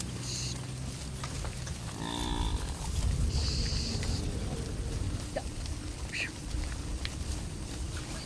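Fulani herdsmen's cattle out at pasture, with a low moo and other animal calls rising from the herd over a rumbling outdoor background, fairly faint and at a distance.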